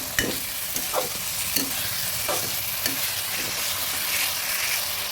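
A pan curry of taro stems with hilsa fish head and tomato is stirred. Several distinct scraping strokes land over a steady close sizzle, with no voices.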